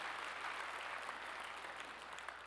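Steady applause from a church congregation after a choir's worship song, a soft, continuous wash of many hands clapping at moderate distance, with no one speaking over it.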